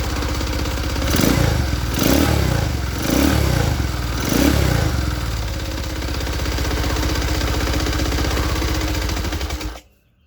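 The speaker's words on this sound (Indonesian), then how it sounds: "karena terlalu kencang katupnya sehingga motor ini tidak bisa langsam ya" A Honda motorcycle engine with overtightened valves runs roughly and unevenly, surging in four rhythmic bursts before settling, struggling to hold a steady idle, then cutting off abruptly near the end.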